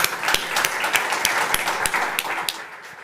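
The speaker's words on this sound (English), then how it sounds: "Big round of applause, please." Audience applause at a live ecosystem builders conference event, a steady patter of many hands clapping at moderate distance, with sharper individual claps standing out and no talk over it.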